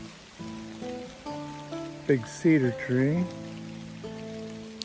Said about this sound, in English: This rain is killing me.